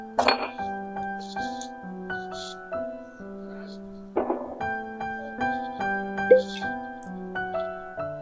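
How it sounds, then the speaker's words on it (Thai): Ice cubes clink and tinkle into a glass of brandy, in several bright bursts of ringing glassy chimes that decay between drops, close and clear. "ใส่น้ำแข็งเข้าไป"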